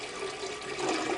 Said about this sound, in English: I'm going to just start pouring water in to see how much of my gallon gets in